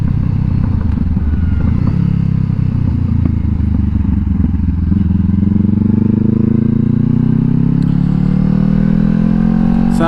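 A Honda CBR500R motorcycle ridden at night, its engine droning close and loud with rising revs as it accelerates, steady wind rush throughout.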